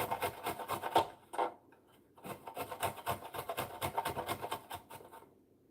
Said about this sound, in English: I want to go ahead and just grate these little things here